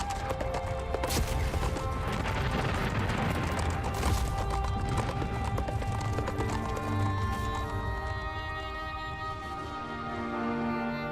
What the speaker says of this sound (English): You guys better make your horses run faster.